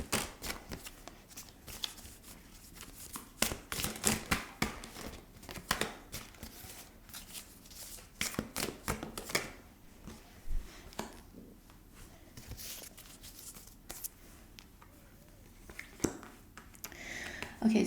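Tarot cards shuffled by hand in a quiet room, a long run of quick papery riffles and flicks coming in irregular bursts, close and fairly soft, with no talking.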